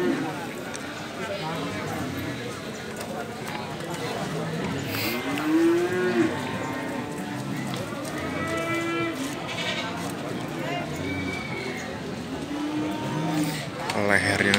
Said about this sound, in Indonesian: Ini di depan saya ada sapi monster limosin istimewa.